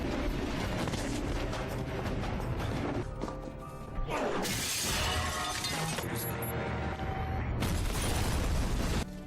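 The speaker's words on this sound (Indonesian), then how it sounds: "lalu meledakkan markas Shiro yang ternyata telah dipasangi bom oleh Rock." Explosion of a bomb-rigged enemy base in an action film, a loud sustained blast with crashing, shattering debris and rumbling that surges again midway and keeps roaring to the end.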